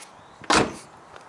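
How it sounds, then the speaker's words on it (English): A car door on a 1996 Tourmaline Green Mercedes A124 E220 Cabriolet shuts with one solid, close thud, followed by a short fading rattle in an otherwise quiet space. "let's shut this door"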